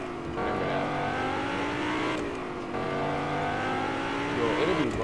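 Whiplash car from Fortnite driving in a steady, continuous engine drone with rising revs and harmonic whine, loud and close throughout, with a brief squeal-like sweep near the end.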